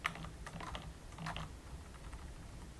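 Fingers tapping on a computer keyboard while entering grade data into an Excel spreadsheet, a quick run of soft, close clicks at an uneven rhythm that bunches into bursts and then eases off.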